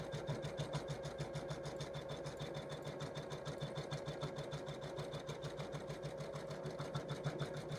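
An embroidery machine stitches an in-the-hoop Christmas stocking, its needle hammering in a steady, fast mechanical rhythm with a constant motor hum, close and even throughout.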